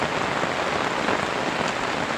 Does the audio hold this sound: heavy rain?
yes